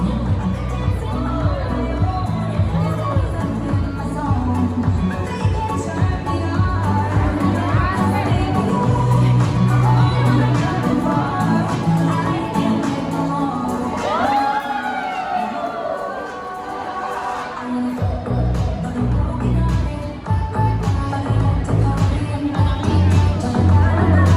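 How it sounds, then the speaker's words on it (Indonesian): An audience at a contestant pageant event applauds and cheers in a hotel venue, loud crowd noise mixed with amplified speech and music throughout. "Kita beri tepuk tangan yang meriah"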